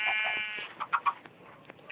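Sheep in Minecraft bleat: a drawn-out wavering baa followed by a few short, clipped bleats, moderately loud and alone without talk.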